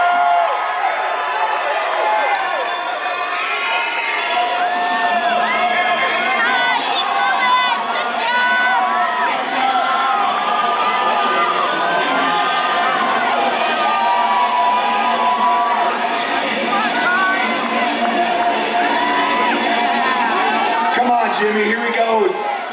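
A large crowd at the 2014 Psicobloc Masters deep-water-solo climbing competition cheers, whoops and shouts continuously for a climber making big moves, with a commentator talking loudly over the roar.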